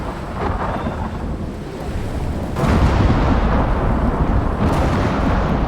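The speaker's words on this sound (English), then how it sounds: "usually near the end of the storm, the weather gets insane" A thunderstorm rages in the survival game Icarus, with heavy rain hissing steadily as deep thunder rumbles roll in, one swelling loudly partway through and continuing to growl under the downpour, no voices.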